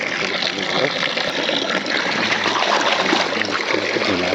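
Water runs and splashes steadily during home cooking of a vegetable dish, a continuous close trickling and gushing sound, with a person talking over it.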